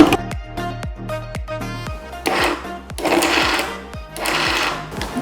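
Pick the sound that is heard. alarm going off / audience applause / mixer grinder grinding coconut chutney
mixer grinder grinding coconut chutney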